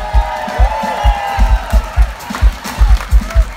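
An outdoor park crowd at a jazz band concert applauds and cheers for the saxophonist, with rhythmic clapping bursts and whoops filling the space under a voice speaking over them.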